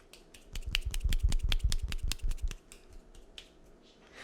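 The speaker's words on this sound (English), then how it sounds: "That is the sound of one hand clapping" One hand making rapid clapping snaps, about a dozen sharp, close, dry cracks in a quick steady rhythm for two seconds, then stopping.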